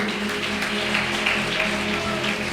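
A church congregation at Hosanna Gospel Center claps together in a steady, dense wash of applause that fills the room at an even level.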